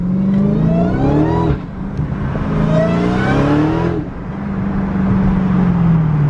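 A Dodge Charger Redeye Jailbreak engine revs hard while driving, climbing in pitch through gears with two brief drops at shift points, loud and close with a whining supercharged character.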